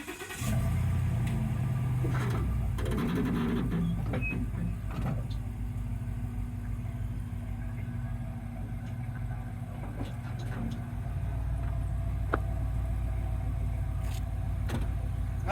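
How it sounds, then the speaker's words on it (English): A pickup truck's engine starts and revs as it pulls away from a fifth wheel trailer hitch, then a low idle rumble continues with scattered clicks and clunks, no talking. "So I'll go ahead and pull the truck out."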